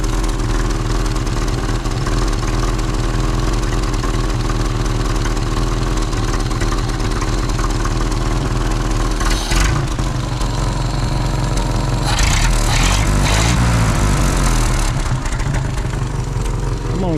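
A 1931 Ford Model A with a B-engine running while being driven, a loud, steady, low engine drone throughout with a rougher, rising burst of revving near the end.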